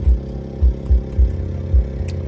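A low, chugging boat engine idles steadily with rhythmic thumping pulses, close by and fairly loud, with no one speaking.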